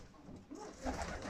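A white pigeon cooing nearby in a loft, soft low murmuring coos rising toward the end of a short, quiet moment.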